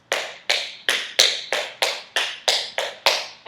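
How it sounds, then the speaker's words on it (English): Tap dance shoes striking a hard floor in a straight walking collapse step, ten crisp, evenly spaced taps about every third of a second, close and clear with no voices. "if you're just doing straight walking collapse, it's going to look like this"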